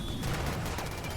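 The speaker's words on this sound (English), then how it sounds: "there's just that salvo of pikeman fire from behind" Tribal pikemen in the game Rimworld fire a volley of guns, a rapid crackle of overlapping shots that packs into a dense, steady burst with no gaps.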